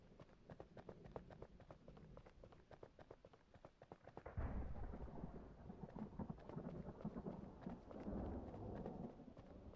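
Thunder from a distant storm beyond the mountains in the video game Outbrk, a low rolling rumble that swells midway and stays faint, over steady rhythmic footsteps or clopping.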